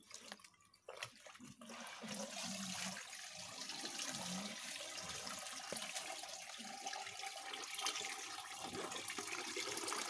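Water poured into loose plant growing medium and draining freely through it, a steady close rushing and trickling that runs on without a break after a brief start.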